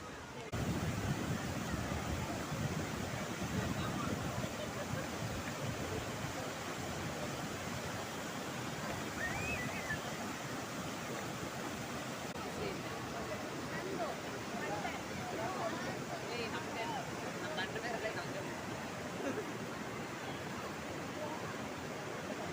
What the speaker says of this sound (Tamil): பாருங்கள், குட்டி குட்டி அருவிகளாக இருக்குது